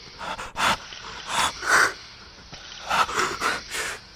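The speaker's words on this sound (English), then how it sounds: "Suddenly you gasp for breath." A person gasps and struggles for breath in a hospital bed, with a series of ragged, airy inhalations and wheezes in short bursts, close and fairly quiet.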